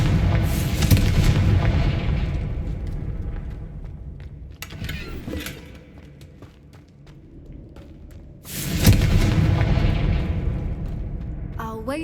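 Confringo blasting spell explosions in the Hogwarts Legacy video game, two loud booming blasts about eight seconds apart, each with a long rumbling decay. There are no voices.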